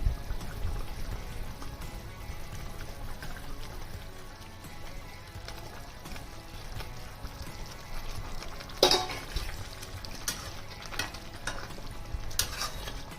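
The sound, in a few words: pomfret fish added to simmering spicy curry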